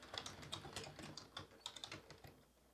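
Close, rapid typing on a computer keyboard, with quick irregular clicks and clacks in short bursts and no voices over them.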